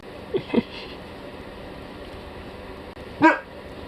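A dog barks a couple of quick yips close by, then one louder bark a few seconds later, over a quiet room with faint voice nearby.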